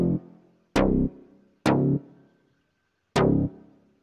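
A beat pattern programmed in FL Studio, equalized with the low end completely cut, plays as four sharp percussive hits with bright decaying tails, spaced unevenly over a few seconds with silence between, and no talk.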